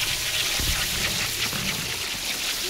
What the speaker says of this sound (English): Here to wash out another tie-dye for you.